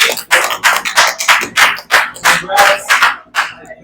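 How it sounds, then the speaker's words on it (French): Applause for the player That One Guy after he wins his round at a Ligue du dimanche esports final at Rage Montréal, made of steady crowd clapping in dense bursts that fill the whole clip. "Vous voyez une brassée d'applaudissements pour That One Guy"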